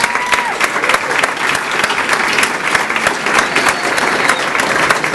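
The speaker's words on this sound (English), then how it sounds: "give John Booten a round of applause here" A crowd claps steadily and loudly, a dense continuous patter of hands from start to finish.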